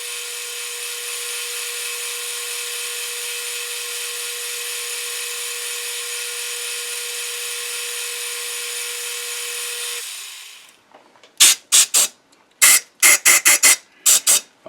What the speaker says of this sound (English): because still a slight spring cut on the return